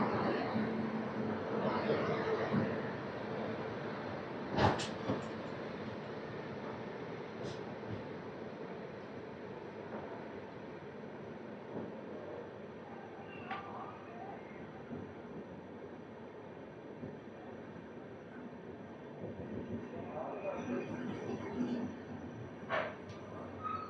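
Rayalaseema Superfast Express rumbling on the rails at Gooty Junction, a steady low moderate rolling drone with occasional clanks and squeals, voices faintly heard over it.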